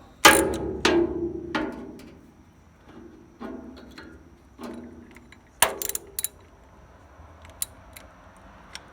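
Bursts of metallic ratcheting and clinking come as a ratchet wrench works to loosen a bolt on a farm. Several separate clusters of clicks sound close up, fading to scattered faint ticks, with no talking.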